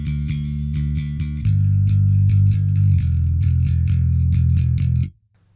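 Bass guitar run through a Darkglass and a Sansamp distortion together, a loud gritty growl of held notes with a few plucked changes, ringing for about five seconds before cutting off abruptly into near silence.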